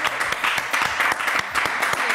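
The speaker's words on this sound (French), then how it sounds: "On applaudit très fort Amanda." A studio audience claps on a French talk show, a short burst of brisk applause with a slightly uneven, pulsing rhythm, close and fairly loud throughout.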